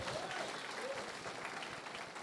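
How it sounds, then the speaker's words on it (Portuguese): Continuous clapping from a church congregation during a sermon, fairly distant and quiet, with faint voices mixed in. "Então dê um aplauso a Jesus bem forte."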